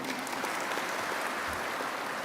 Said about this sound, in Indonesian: Tepuk tangan untuk semua kita.